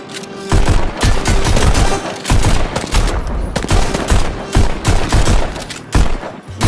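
Rapid gunfire in a VR shooter game played on an Oculus Quest 2, loud and sustained bursts of shots with short gaps between volleys, no talking.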